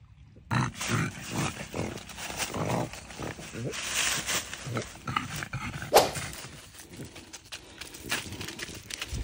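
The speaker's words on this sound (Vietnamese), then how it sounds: "Đó là chó cỏ miền Tây mà." Native Mekong Delta country dogs bark in repeated sharp bursts at close to mid range, uneven in rhythm and layered over one another, while people talk in the background.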